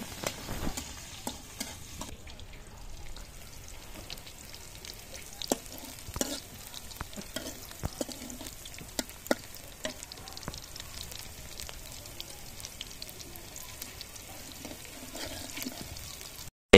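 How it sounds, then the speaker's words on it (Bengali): Noodles with chopped boiled egg being stirred and fried in a pan, a steady low sizzle punctuated by frequent scrapes and clanks of the utensil, close and continuous throughout. "এই দেখেন এখন আবার নুডলস দিয়ে নাড়াচাড়া দিতেছে, নুডলস ঢেলে দিছে"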